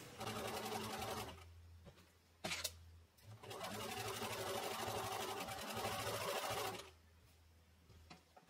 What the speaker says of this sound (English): And now I'm going to stitch those casing by sponging strips in place.